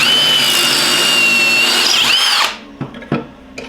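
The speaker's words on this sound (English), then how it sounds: "So now that it's on my drill here, all you have to do is just make two holes." Power drill with a pocket-hole jig boring pocket holes in wood for DIY garage shelving, a loud high whine that winds down and stops, followed by a couple of clunks.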